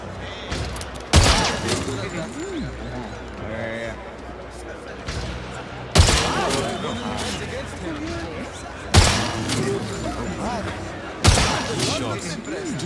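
Gunfire in the video game 007 First Light: four loud sharp shot impacts spaced a few seconds apart, each followed by ringing and rattling game effects under in-game dialogue.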